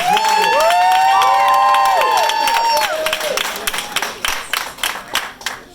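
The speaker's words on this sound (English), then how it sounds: "let's get those hands clapping." Audience at a stand-up comedy open mic claps and cheers loudly, a dense burst of applause with whoops and shouts that swells then thins into scattered claps.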